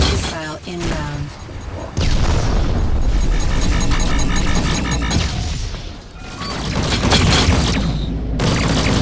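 An incoming missile explodes in the space-combat video game Rebel Galaxy Outlaw, loud booming blasts with rumbling mechanical noise, a sharp burst near the start and another strong surge after a short dip, sustained and close.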